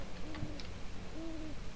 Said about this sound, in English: an owl outside